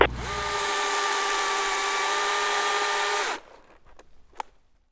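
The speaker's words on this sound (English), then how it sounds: "I think I'm gonna have to bust out the chainsaw" A loud, close chainsaw cutting fallen trees on a road whines steadily for about three seconds, then cuts off, leaving quiet rustles and a couple of sharp knocks.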